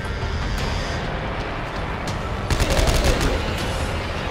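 Gunfire in Dead Space 3 crackles in a rapid burst of shots partway through, layered over a dense, rumbling game soundscape, with no voices.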